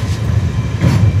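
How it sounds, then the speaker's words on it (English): A passenger train on the Fes to Marrakech line in Morocco rolling into a station, with a loud, steady rumble and clatter of wheels and carriages close by. "just wait for the train to stop finally and get down"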